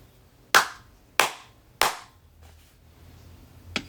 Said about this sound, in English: You clap your hands and I'll count.